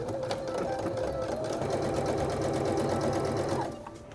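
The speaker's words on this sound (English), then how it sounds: "So I'm just gonna do a straight stitch." A sewing machine runs a continuous straight stitch on fabric for a thrifted Japanese noren curtain, with a loud, even rapid needle chatter lasting nearly four seconds before slowing to a stop.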